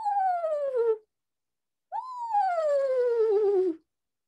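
A person imitates an eastern screech owl's whinny call, giving two descending wavering cries, the first about a second long and the second nearly two seconds, loud and close with a gap between them.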